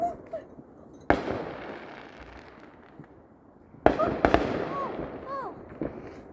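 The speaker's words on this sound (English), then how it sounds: "Oh, it says do one firework." Fireworks burst outdoors in two sharp, loud blasts a few seconds apart, each followed by a long crackling, fizzing tail with some whistling streaks after the second.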